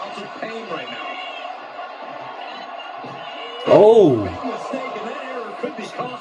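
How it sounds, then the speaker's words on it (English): A WWE 2K25 wrestling video game arena crowd roars steadily beneath an excited commentator, swelling into a loud burst of cheering midway before settling back into a constant background hum. "A deafening cheer from the WWE Universe is reverberating"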